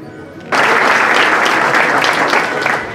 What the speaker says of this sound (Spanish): Recibimos también con un fuerte aplauso al director general del DIF Guerrero, licenciado Francisco.